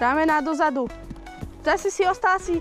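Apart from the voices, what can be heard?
No everyday noises stand out.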